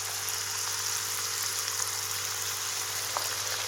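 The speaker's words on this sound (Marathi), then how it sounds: "आता उरलेले शंकरपाळ्या तळून घेते." Salty fenugreek shankarpali fry in hot oil, giving a steady, close bubbling sizzle that runs evenly throughout with a few tiny crackles and no voices.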